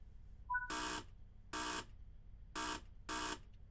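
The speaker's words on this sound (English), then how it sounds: "There should be a beep machine going, you beep, beep, beep," Door-lock warning tone in Train Sim World 5 on the Midland Mainline, sounding as four loud electronic beeps in a steady on-off rhythm, each lasting about a quarter second, over a low rumbling cab background.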